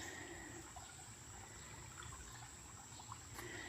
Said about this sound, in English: We have water in the creek.